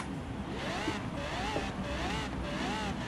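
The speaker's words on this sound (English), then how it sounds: "Oh, the start of this Lambo. Look. Let's rev it up." A Lamborghini engine revs steadily in the racing game Forza Horizon 3, its rising and falling pitch sweeping in repeated waves over a constant broadband roar with no pauses.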